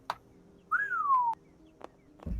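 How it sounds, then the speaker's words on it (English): A single clear human whistle, a short rising then gliding-down tone lasting about half a second, close and alone amid faint background knocks and shuffles. "Don't whistle. We're trying to be sneaky."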